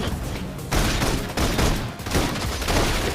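Sustained rapid gunfire in the Love and Deepspace video game, dense continuous bursts of shots with short breaks between volleys, loud and close.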